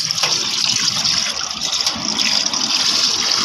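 Dirty, sediment-laden water gushes steadily out of a Mitsubishi Strada fuel tank, a loud continuous splashing pour with no pauses.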